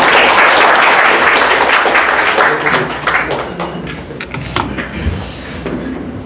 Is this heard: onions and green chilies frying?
no